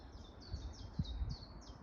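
Faint, rapid high-pitched bird chirps repeat in a steady series over a soft rumble of wind or outdoor background.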